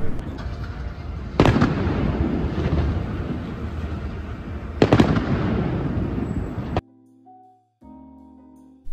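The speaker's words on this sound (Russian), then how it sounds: "и проводил нас Эдинбург чудесным салютом" A fireworks display over Edinburgh booms loudly twice amid continuous crackling and rumbling, then the bursts cut off abruptly and a quiet tonal sound follows.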